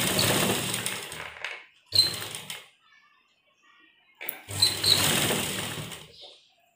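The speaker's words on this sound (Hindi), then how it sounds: "और चारों तरफ इसके हम सिलाई लगाएंगे।" A sewing machine stitches a homemade fabric face mask in close, steady whirring runs of a second or two, separated by short pauses and a longer quiet gap.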